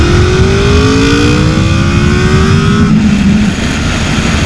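A Honda VFR 800 FI Interceptor RC46 motorcycle revs loud and close in second gear, its engine tone climbing steadily before easing off near the end, with wind noise roaring underneath throughout.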